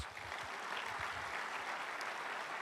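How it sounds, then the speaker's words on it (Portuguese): A church seminar audience claps for Jesus in a full, sustained round of applause, dense and even from start to finish, with no talk over it. "Dá um aplauso ao Senhor Jesus."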